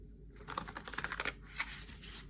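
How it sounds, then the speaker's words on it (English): Tarot cards with gilded edges being shuffled gently by hand, a soft run of quick clicking, riffling flutters with a slightly clunky texture, close and quiet with no talking. "Let's see how it shuffles. It shuffles nicely."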